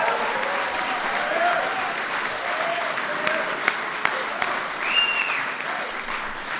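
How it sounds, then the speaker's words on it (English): A crowd applauds the Irish Taoiseach Enda Kenny at an event with the President and Vice President. Sustained clapping from many hands, dense and fairly loud, with a few sharper claps and faint cheering. "Give him a big round of applause."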